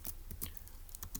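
Keys clicking on a computer keyboard while typing in a deduction for a Turing Machine logic puzzle, a handful of quick, faint taps in an irregular rhythm against a quiet room.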